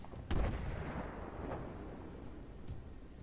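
A tank cannon fires in Armored Warfare with a single loud, booming blast, followed by a rumbling tail that fades over a few seconds, plus another faint distant boom.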